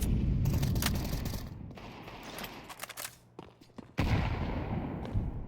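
Rapid pistol fire from Desert Eagles and Tec-9s in Counter-Strike 2, a dense burst of close cracking shots, then a brief lull and a renewed loud volley near the end.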